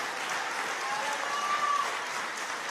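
A church congregation applauds in a steady, even patter that sounds a little distant and keeps going without pause.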